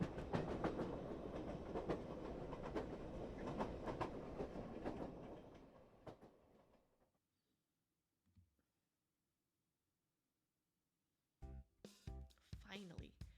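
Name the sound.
train rolling on rails, from an otome video game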